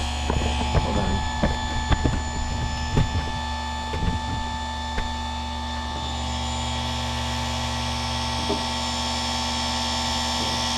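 A Forester bench-mounted chainsaw chain sharpener runs with a steady, tonal motor whine and hum, interrupted early on by several sharp grinding and clicking contacts that later fade to just the motor running.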